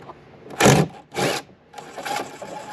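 A power tool spinning out bolts from a mirror mount on a GMC or Chevy 1500 pickup: two short close bursts of whirring, then a softer longer run, loud and alone.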